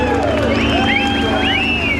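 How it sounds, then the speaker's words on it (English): A crowd at Santa Pod drag racing cheers in a continuous wall of shouts and rising whoops, loud and sustained for the full couple of seconds. "the Santa Pod crowd are lending their full vocal support"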